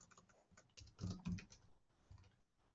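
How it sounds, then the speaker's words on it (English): Typing on a computer keyboard, a quiet run of quick, uneven clacks with a slightly denser burst in the middle, alone without talk. "I'm sorry for the typing, I know you can hear it quite loud"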